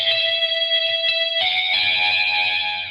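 A MIDI instrument plays a guitar riff: steady, bright sustained tones that shift pitch partway through, loud and upfront for about three seconds with no voices.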